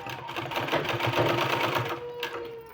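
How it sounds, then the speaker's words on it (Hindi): A sewing machine running steadily as it stitches a fabric sleeve, a fast close rhythmic whirring clatter lasting a few seconds before slowing near the end. "इस तरह से इसमें इस तरह से सिलाई लगा देना है।"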